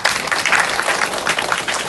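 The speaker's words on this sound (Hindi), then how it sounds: "आप सब लोग ताली बजाइए" Applause from an audience at a devotional gathering, a busy, fluttering clatter of many hands at moderate loudness, with surges and dips in intensity.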